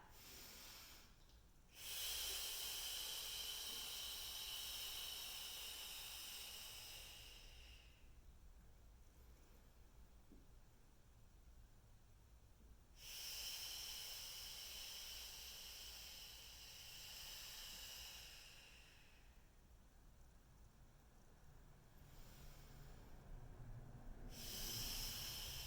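Slow, deliberate breaths during a pelvic floor-safe core exercise on a ball, heard as long airy exhalations in three broad swells separated by quieter inhales, close and fairly faint, with no talking.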